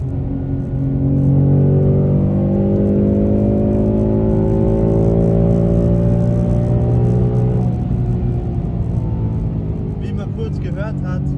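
A Ford Mustang Dark Horse engine drones loudly and steadily against a soft rev limiter, the pitch holding and wavering, with a voice speaking faintly near the end.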